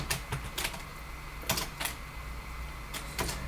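Commands are typed on a keyboard while configuring a network switch: quiet, sharp key clicks in short irregular bursts and pairs, separated by brief pauses over a low background hum.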